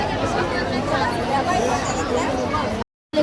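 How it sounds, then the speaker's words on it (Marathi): A dense crowd at a busy village fair (jatra) with balloon sellers, a steady close wash of overlapping chatter and babble that cuts out abruptly near the end before resuming. "इथं फुल जत्रा भरलेली आहे"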